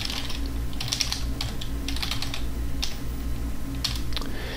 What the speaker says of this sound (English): So let's go ahead and type in another query here